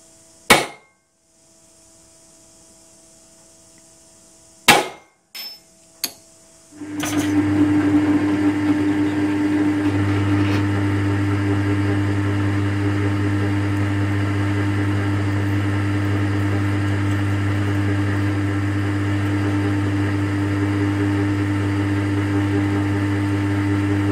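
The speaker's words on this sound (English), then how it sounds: "More holes to drill." A power drill bores holes during repair of an electric golf cart: a few sharp knocks and clicks, then the motor spins up into a loud, steady whine that runs on continuously.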